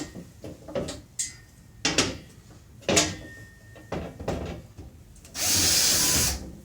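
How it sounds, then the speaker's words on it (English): A power drill bores holes into a wall for toggle bolts, with short bursts and knocks between handling noises, then a long loud whirring burst near the end. "So let's go ahead and drill these into the wall."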